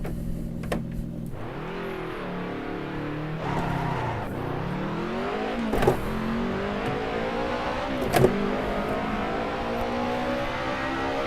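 A BMW M3 E30 engine in the Assetto Corsa racing game revs hard and steadily for several seconds, its pitch sweeping up and dipping through gear changes, loud and close, with a few sharp transient clicks and no talking.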